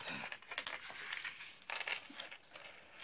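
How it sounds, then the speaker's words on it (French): Paper being creased into folds for a handmade box, soft crinkling and pressing rustles close up, quiet and alone. "Alors je vais marquer mes plis."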